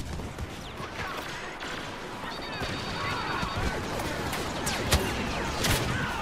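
Dense, rumbling combat in Star Wars Battlefront on Jakku, an artillery barrage of overlapping blasts and crashes, a continuous run of explosions with sharper impacts standing out near the end.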